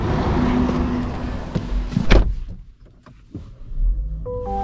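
A 2025 Chevy Equinox, a baseline trim, pulls away: a steady engine and road rumble fills the cabin, then eases off into quieter interior noise with a few faint clicks and a soft chime near the end.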